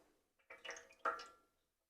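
Oil poured into a breadmaker pan gives two short, soft wet glugs and splashes, close and quiet, with silence around them and no talk.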